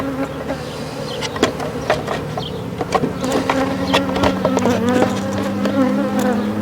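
A honeybee colony buzzes densely and close by as a swarm is transferred into a small nucleus hive. The steady hum is broken by louder passes of individual bees and a few light knocks.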